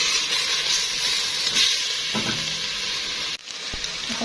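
Meat sizzles while being stir-fried in a pot over high heat, giving a loud, steady, close hiss that continues throughout with brief stirring clatters.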